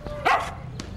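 Dog barking in a Spanish-language drama scene, a single short bark with a yelping edge, fairly close, followed by faint quieter yips.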